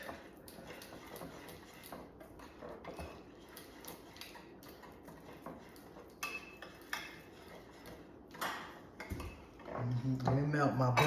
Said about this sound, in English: So let's get it thoroughly mixed.